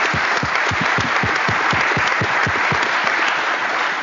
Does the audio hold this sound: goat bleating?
no